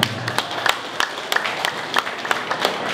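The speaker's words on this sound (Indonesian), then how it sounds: "Tepuk tangan dong." A crowd at a mass circumcision celebration gathering in Batam breaks into scattered applause, a mix of sharp individual claps and a continuous patter, fairly close and without talk.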